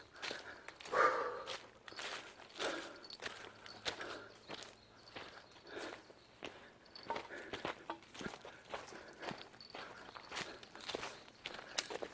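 Steady footsteps crunch and squelch softly on rain-wet ground on a mountain trail, a regular walking rhythm nearby, fairly quiet with faint background ambience.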